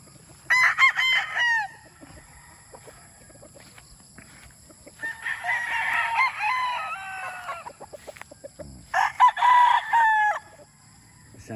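Gamefowl rooster, a cross with Milsen's Black, crows three times in close succession, each call loud and near, with faint background farm noise between.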